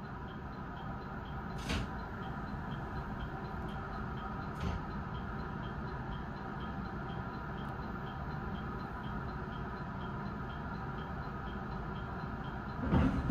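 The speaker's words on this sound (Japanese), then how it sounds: "列車は手信号に合わせてゆっくりと連結相手の225系に向けて" A JR 225 series train creeps slowly toward a coupling with a steady low rumble, and two faint clunks sound partway through before a sharper knock at the very end.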